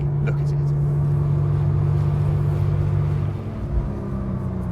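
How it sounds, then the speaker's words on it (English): Booming exhaust of a Singer-restored Porsche 911 on the road, a steady low drone with engine rumble running continuously and loud throughout, easing slightly near the end. "Although it's quite booming in the exhaust area."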